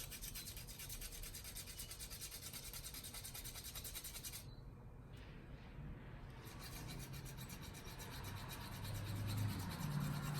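A hand file rasps steadily against the edge of a 1949 Canadian 50 cent coin being shaped into a ring, a continuous close scraping that briefly thins and then grows slightly louder toward the end.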